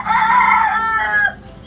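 A young Sweater gamefowl hen clucks and squawks loudly while being handled, one close, harsh drawn-out call that breaks off abruptly.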